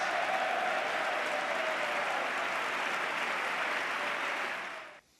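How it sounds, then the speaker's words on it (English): Steady applause from a large television studio audience fills the room, holding at an even level before quickly dying away at the end. "And that wins them more applause."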